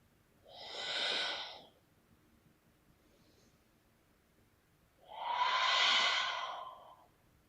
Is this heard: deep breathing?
yes